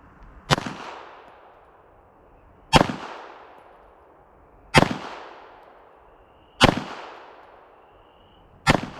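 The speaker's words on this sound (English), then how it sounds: "I'm just gonna shoot a 5-shot group into the head box of an IDPA target" Five evenly spaced, loud, sharp pistol shots from a Staccato CS with a DSC comped barrel, fired about two seconds apart at an IDPA target on a range, each with a short ringing decay.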